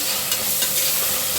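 Onions fry in a pan with salt until golden brown for a restaurant-style paya, giving a dense, steady sizzle with faint scraping of stirring throughout, close and continuous with no voices.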